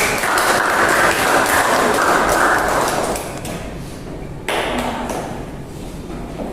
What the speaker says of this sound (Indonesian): Oke, tepuk tangan dulu sih sekarang